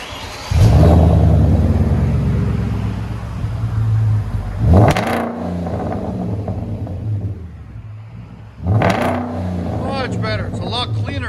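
A 2011 Hyundai Genesis 4.6-liter V8 with Magnaflow Magnapack true dual exhaust roars through three sharp revs, each swelling loud and then falling back to a deep, steady idle rumble close by.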